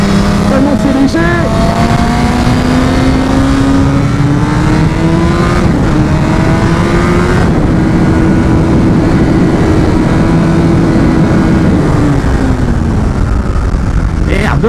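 A BMW HP4 Race motorcycle with 215 hp screams around a racetrack, its engine pitch rising and falling through gear changes, loud and continuous under rushing wind.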